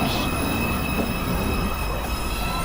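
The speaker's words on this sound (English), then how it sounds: "Train. Approaching the station, please stand away from the platform edge." An NYC subway express 2 train approaches the station, a continuous loud rumble and rushing roar of rail cars with faint high wheel squeal that holds steady throughout, with no talking.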